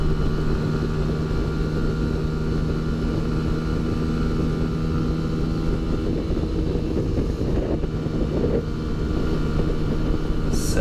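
A Benelli TNT 135 motorcycle engine holds a steady, loud, tonal drone at top speed on a highway, mixed with constant wind rush and no talk.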